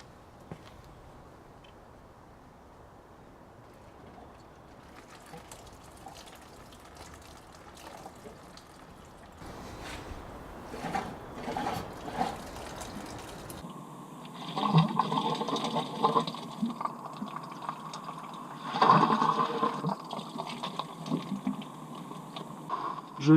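Coolant draining from the cooling circuit of a Peugeot 208, a soft trickle and splash of liquid that swells and turns more gurgling partway through, recorded close up under quiet background noise.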